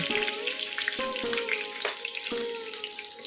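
Fish frying in a pan of hot oil for a veg fish curry, a steady bright sizzle with occasional sharp spattering pops, close and even throughout.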